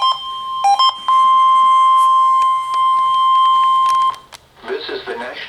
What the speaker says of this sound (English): The preceding signal was a test of the NOAA radio warning alarm system for radio stations serving southeast Texas and southwest Louisiana.